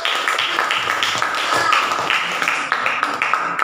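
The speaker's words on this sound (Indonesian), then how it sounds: "kasih tepuk tangan" An audience claps at the end of a classroom presentation, a short, steady burst of close, dense applause.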